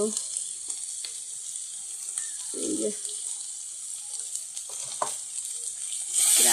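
Spiced vegetables with salt and turmeric frying in a pan, a steady bright sizzle broken by a few stirring scrapes and light clatters, ending in a louder burst of frying.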